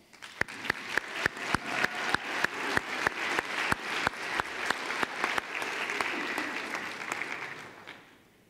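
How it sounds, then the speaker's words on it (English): A convocation audience gives a round of applause at a University of Georgia College of Education ceremony, a sustained crowd clapping with a steady beat of louder claps, swelling then fading out over several seconds. "Please give them a round of applause."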